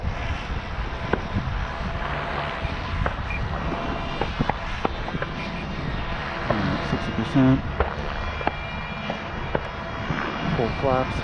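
An E-flite Draco RC airplane motor whines steadily through a takeoff run, loud and close throughout, with clicks and handling noises around it and talk from a person over it.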